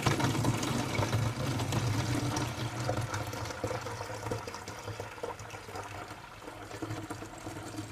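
Homemade milk substitute poured into a milk jug, a steady trickling, splashing liquid stream close by that continues for several seconds and tapers slightly toward the end, with no talking.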